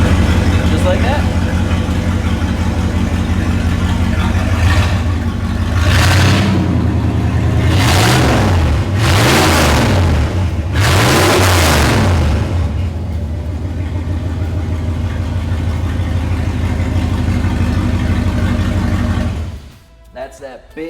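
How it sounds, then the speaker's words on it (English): A 1971 Ford F-250 with a big block V8 idles loudly and close, with a deep rumble. A few rising revs swell in the middle, and someone talks over the engine before it cuts off near the end. "That's that big block American V8. Can't beat that sound."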